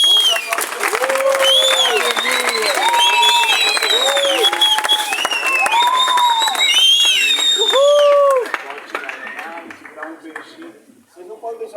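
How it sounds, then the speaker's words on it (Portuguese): Wedding guests applauding at the close of a church ceremony, a loud sustained wash of clapping and crowd noise with many voices talking and calling over it, fading out near the end. "Vamos aplaudir."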